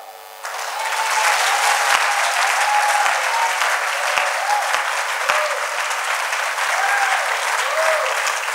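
A congregation at a prophetic healing service bursts into loud, sustained clapping that swells quickly and holds steady, with faint voices mixed beneath it.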